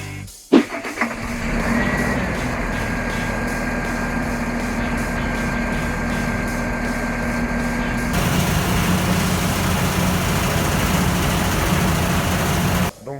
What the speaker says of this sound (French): redémarrer le tracteur, redémarrer la prise de force et on repasse au banc.